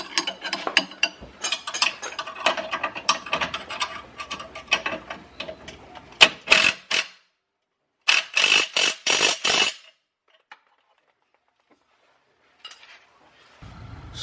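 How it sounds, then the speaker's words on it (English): A ratchet wrench with a deep socket clicks rapidly in bursts while working a bolt on the suspension of a 2018 Dodge Charger during a lowering spring install, close and crisp, with pauses of near silence between runs. "You gotta use a deep socket for this one."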